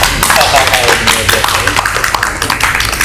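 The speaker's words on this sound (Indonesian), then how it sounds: "Tepuk tangan dong" Audience clapping at a Palembang community event about a tolerance village: a steady patter of many hands, fairly loud and dense throughout, with voices talking over it.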